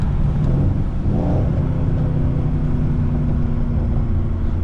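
A Mercedes C63 AMG engine downshifting on a winter drive: a loud, close, continuous low rumble with a brief rising rev blip early on, then steady droning.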